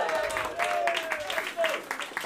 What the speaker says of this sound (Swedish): Ge dem en applåd.